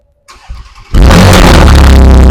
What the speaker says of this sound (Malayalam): ഇപ്പൊ വെഹിക്കിൾ സ്റ്റാർട്ട് ചെയ്യുമ്പോൾ നമ്മുടെ നോർമൽ എക്സോസ്റ്റിന്റെ ഒരു നോയ്സ് ആയിരിക്കും, എക്സോസ്റ്റ് നോട്ട് ആയിരിക്കും വെഹിക്കിളിന് വരുന്നത്